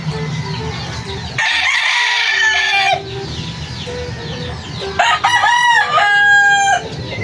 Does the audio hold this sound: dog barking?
no